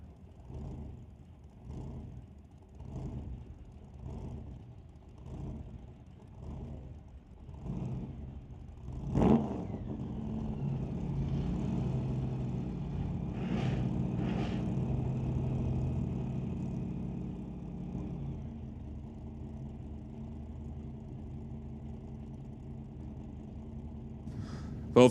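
Drag race cars, including a 1931 Ford Model A, idle on the staging beams before a quarter-mile street final. Lumpy rhythmic engine pulses give way to a sudden loud rev and a sustained, rumbling roar.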